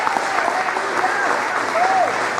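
A church congregation applauds during a Sunday school sermon, sustained dense clapping at close range with scattered voices and cheers mixed in throughout.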